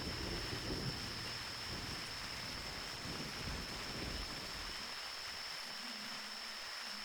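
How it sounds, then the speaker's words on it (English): Steady rain falling in a tropical Australian bay area, a constant dense hiss with low rumbling, heard alone and evenly throughout. "I might have to wait till the rain passes"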